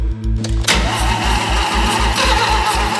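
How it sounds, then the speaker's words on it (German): A Mazda Cosmo rotary engine cranks with a rapid rhythmic churn, then catches and fires into a loud, close, rough-running idle that keeps pulsing. "Lass ihn anspringen, lass ihn anlaufen."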